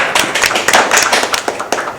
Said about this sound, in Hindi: अब मैं चाहता हूँ इसके लिए ताली आप बजाएं प्लीज़।